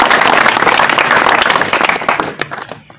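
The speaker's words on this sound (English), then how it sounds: "Let us appreciate him with a hearty clap." Hearty clapping from a school audience at a Kenyan high school event, loud and dense at first, then thinning to scattered claps and fading out near the end.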